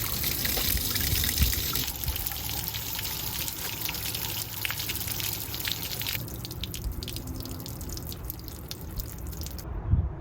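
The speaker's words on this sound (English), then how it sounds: "So that's all the water coming out of the water heater." Water draining out of an RV travel trailer's six-gallon water heater, a steady close trickling and dripping stream that runs continuously without speech.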